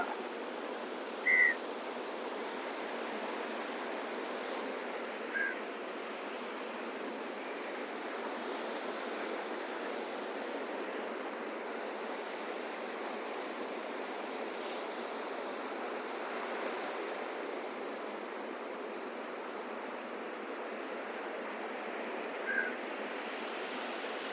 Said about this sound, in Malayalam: കടലിന്റെ സൗണ്ടാണ്